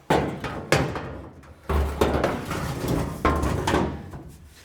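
A replacement rust repair panel is set against a car body, giving a few loud metallic thunks and bumps at a steady, irregular pace, close by, with no talking.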